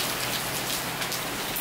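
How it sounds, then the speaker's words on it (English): Rain from a Hurricane Dorian rain band pours down in a steady, dense hiss of drops hitting surfaces, constant and fairly loud throughout with no voices. "we finally got our first rain band, I guess you want to call it."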